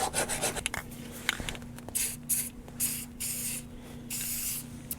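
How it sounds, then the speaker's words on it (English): Rust-Oleum spray paint hissing onto metal parts of an ATV in bursts, several short and longer sprays with brief pauses between them, close and moderately loud, no talking. "I'll spray this with a little bit of just, you know, Rust-Oleum to keep that from rusting"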